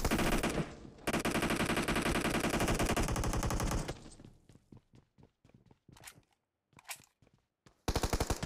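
Automatic gunfire in the mobile battle royale game PUBG Mobile, two long loud bursts separated by a sparse run of single shots and short clusters, ending with another dense burst.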